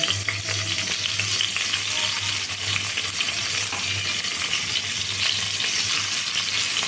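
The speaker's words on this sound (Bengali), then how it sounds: "আস্তে আস্তে করে সব চিংড়ি মাছগুলো ভেজে নেব" Prawns fry in hot oil in a pan with a dense, even, close sizzle and crackle over a low steady hum, continuous and without speech.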